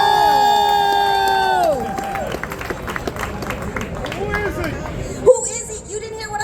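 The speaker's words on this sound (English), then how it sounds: "where are your claps for Frederick?" Block party crowd cheering and whooping for a house music event, loud and lively with scattered claps and shouts swelling around a held musical chord, busy and sustained throughout.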